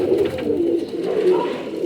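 An old-breed pigeon coos in low, soft, rolling throaty notes, repeated steadily and heard up close without talk.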